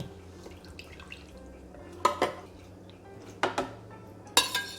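Soaked chiles are tipped from a hot-water soak into a blender, giving a few sharp clatters of utensil and container against glass amid light watery drips, nearby, with no one talking.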